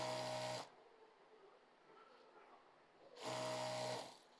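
Sewing machine stitching sleeve fabric in two short bursts of fast, steady mechanical whirring, close and fairly quiet, with a pause of faint room noise between them.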